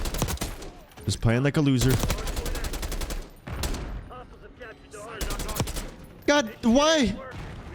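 AK74 rifle fire in the video game Black Ops 6, heard as dense bursts of rapid shots running through most of the stretch, loud and close, with a player talking over the gunfire at times.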